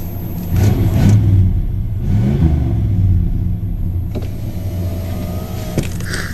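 Chevrolet Caprice, a rear-wheel-drive car, with its engine revved in short rising and falling bursts, a close, throaty rumble that settles into a steady idle, with no voices.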